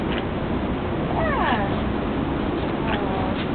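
A farm llama vocalizes with a few short, wavering calls standing out over a steady, noisy background, fairly close.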